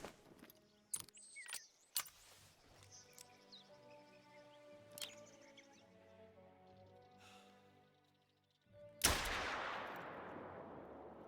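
A single loud hunting rifle shot on a coastal hunting map, a sharp crack with a long rolling echo after several seconds of quiet ambience and small clicks.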